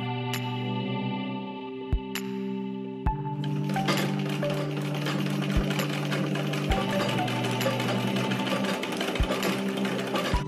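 A sewing machine stitches the side of a folded scrunchie fabric tube in a steady, continuous whir that rises after a few short start-up thuds, close and alone with no voices.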